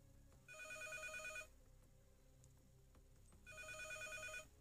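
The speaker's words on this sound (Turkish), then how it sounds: "Cep telefonu ev telefonu gibi çalıyor." A cell phone ringing with a landline-style bell in a horror video game, two bursts of bright electronic trilling separated by a pause, fairly clear over a low ambient hum.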